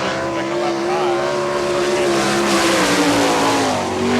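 A sprint car, the number 18 of Arnie Kent with a brand new engine, runs on a dirt track at an All Star Circuit of Champions race in Hartford, Ohio, its engine droning loudly and steadily, pitch sliding slightly as it passes.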